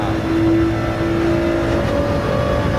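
Ford GT-LM with a turbocharged 3.5-litre EcoBoost V6 revving hard in Gran Turismo 7 at Interlagos, heard from the cockpit: a loud, steady engine drone with tones stepping up through the gears, no talk.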